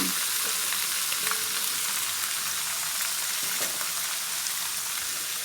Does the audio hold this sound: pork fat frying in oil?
yes